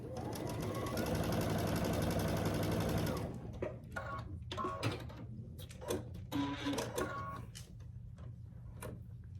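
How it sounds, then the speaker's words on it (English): A sewing machine stitches down the side of two half-square-triangle quilt pieces. It runs fast and loud for about three seconds, then stops, and fainter clicks and handling noises follow. "So I'll stitch down this side of these two half square triangles."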